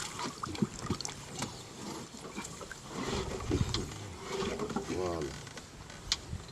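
Oars work a boat on the water in Guinea, with wooden creaks and knocks, splashes and rhythmic mechanical rubbing close by, and faint voices murmuring in the background.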